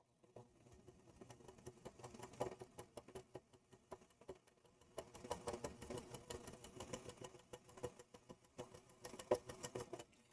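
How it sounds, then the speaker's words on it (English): A sewing machine stitching quilt block fabric, its needle rattling in a rapid, steady patter through two bursts with a short pause between, close and fairly quiet, no talking. "Go ahead and line her up. And we'll go ahead and sew."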